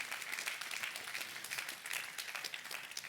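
A church congregation applauds after a French sermon, a steady wash of many hands clapping at moderate distance, fairly soft and sustained throughout with no speech over it.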